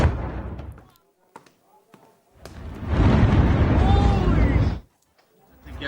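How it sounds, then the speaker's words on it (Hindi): Ballistic missile strike explosion in news footage of an Iranian attack on Tel Aviv: a few sharp distant thuds, then a loud sustained roaring blast with rumbling debris lasting about two seconds before cutting off. "बड़ा धमाका हुआ और धमाके के बाद किस तरह की चीख पुकार वहां पर मची"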